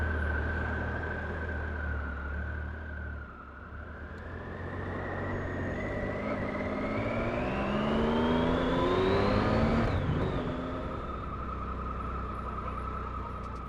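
A Triumph Tiger 1050 Sport motorcycle engine, remapped, is heard while riding. Its note rises steadily under load with wind rush, then eases off the throttle and settles into a smooth, steady drone with no voices.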